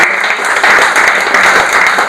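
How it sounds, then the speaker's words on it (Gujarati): Loud, close applause fills a seminar hall on entrepreneurship education and family business growth, a dense burst of many hands welcoming two speakers, brief and even with no talk over it. "ત્યારે જોરદાર તાળીઓથી એમને વધાવીએ"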